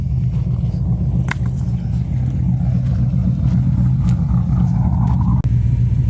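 A Cadillac CTS-V V8 with a newly fitted exhaust idles with a loud, steady low rumble close by, giving a few slight blips of revs over about six seconds.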